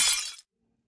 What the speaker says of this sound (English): Suddenly, we hear the sound of glass popping and breaking.